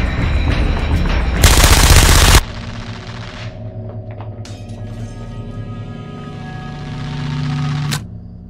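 Gunfire from a Breaking Bad scene where police shoot a man: a loud, dense burst of rapid shots gives way to a lingering rumble and scattered debris noise, then one final sharp crack.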